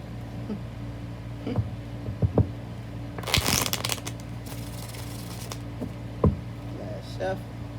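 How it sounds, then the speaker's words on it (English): Tarot cards riffle and slap together in a short burst of shuffling, with a few soft taps and rustles around it over a low background hum. "I know y'all see me shuffle these cards."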